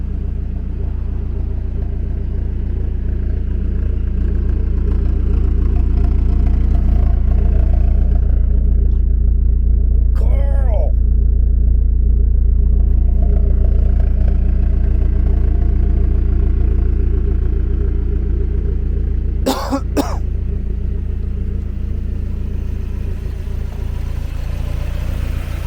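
A 1993 Eunos Roadster S-Special with a stock 1.8L engine idles while warmed up, a deep, steady rumble close by, holding even throughout, with a couple of brief faint sounds in the background.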